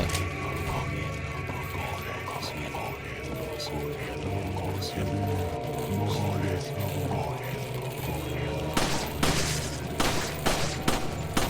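Gunfire in the original 2005 Resident Evil 4, with mechanical clicks and game ambience throughout and a burst of sharp, loud shots near the end.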